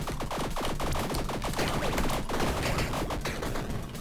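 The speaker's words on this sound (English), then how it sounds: "What's with all the explosions" Rapid, dense bursts of explosions and gunfire-like blasts from the video game Tiny Rogues, continuous and loud throughout with crackling impacts layered over one another.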